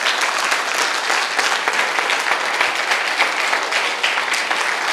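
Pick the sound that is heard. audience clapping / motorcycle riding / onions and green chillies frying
audience clapping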